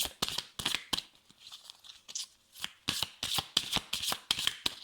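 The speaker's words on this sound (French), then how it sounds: "Je prends une carte de Métatron, de l'archange." Oracle cards of the archangel Metatron being shuffled and handled, with a series of crisp, close riffling and flicking bursts in an irregular rhythm and no talking.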